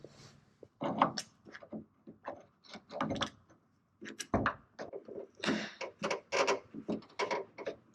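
A freshly lubricated latch mechanism on a Fiat Spider is worked back and forth, giving a rapid, irregular run of close, crisp clicks and clacks.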